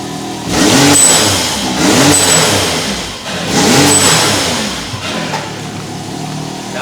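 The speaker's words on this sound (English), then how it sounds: "we put a blow-off valve on it so it sounds cool" A truck engine fitted with a blow-off valve revs up loudly in repeated bursts, its pitch rising and falling with short whooshing releases between pulls, close by and with no talking.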